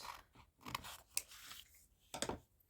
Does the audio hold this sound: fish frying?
no